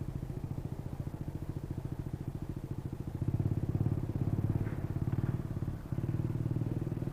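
A Honda motorcycle engine with no kickstarter runs steadily nearby, its rapid, regular low-pitched pulsing getting slightly louder partway through, with a faint clatter.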